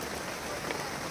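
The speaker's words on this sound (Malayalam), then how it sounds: "എന്താ, നല്ല സൂപ്പർ മഴയാണ്." Heavy rain pouring down in a steady, dense hiss of drops striking surfaces, uniform and unbroken for the whole brief stretch.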